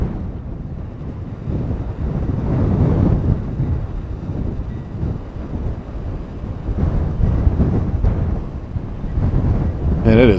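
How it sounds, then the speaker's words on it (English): Strong wind buffets the microphone outdoors in a continuous low rumble, rising and falling in gusts over ten seconds, with no clear voice over it. "And it is really windy."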